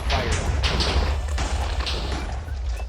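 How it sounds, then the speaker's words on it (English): TNT explosions in a Minecraft TNT mod video game: rumbling booms and thuds layered over a heavy continuous low roar, several blasts overlapping in quick succession. "all of them come down and land with a big explosion with"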